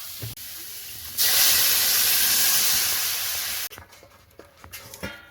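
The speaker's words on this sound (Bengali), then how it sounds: "এবার জল ঢেলে দেবো" Water poured into hot frying raw banana curry with turmeric and salt, a loud sudden hiss of steam that holds strongly for a few seconds then cuts off, leaving faint crackles and clinks.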